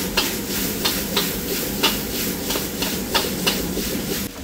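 Bean sprouts stir-fried for pad thai, heard as a continuous close sizzle with regular scraping strokes of a utensil against the pan roughly twice a second, fairly loud and without speech.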